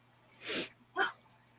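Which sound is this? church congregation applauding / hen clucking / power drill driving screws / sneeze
sneeze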